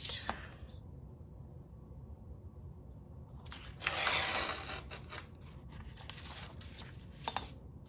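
Scissors cutting out paper for a journal, a soft run of snips and rustles over faint room noise with a brief louder crinkle in the middle.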